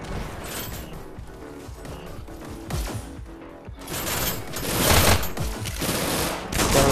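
Video game gunfire in Hyper Dash, with quick clustered shots and impacts that grow louder and denser in the second half, under a busy game soundscape.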